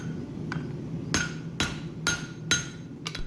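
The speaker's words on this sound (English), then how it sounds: "we're using hardy tools, different surfaces of the anvil, and different hammers to refine our tomahawk shape" Hammers strike a tomahawk head on an anvil during forging. Six sharp, ringing blows land at uneven intervals, close up, with no voices.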